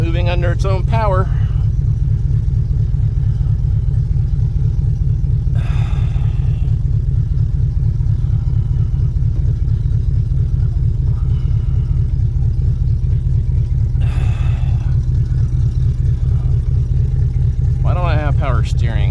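A flood-damaged 1972 Chevrolet El Camino drives under its own power, its engine giving a loud, steady low rumble close by throughout, with brief bursts of someone talking over it.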